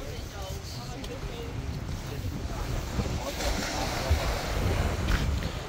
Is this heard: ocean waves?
yes